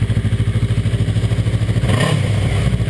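A Yamaha R3 sport motorcycle with its stock exhaust removed runs loud and close, its open pipe pulsing in a fast, rough idle before a brief blip of throttle swells the sound.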